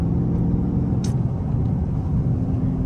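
A widebody Dodge Scat Pack drift car cruises a mountain road in Arizona, heard from inside as a steady low engine and road rumble, with a brief faint click partway through.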